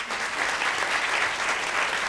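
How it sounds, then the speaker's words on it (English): At a Creative Innovation 2019 Asia Pacific event, an audience applauds the composer in residence. The clapping is full and continuous, a dense crowd patter that holds steady for a couple of seconds with no speech. "Give him a clap."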